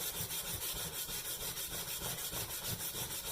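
A brass wire brush scrubs the metal of a 1941 Farnsworth during clean-up, a steady rhythmic rasping with regular back-and-forth strokes, close and continuous with no talking.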